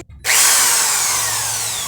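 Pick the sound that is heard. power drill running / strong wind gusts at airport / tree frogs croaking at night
power drill running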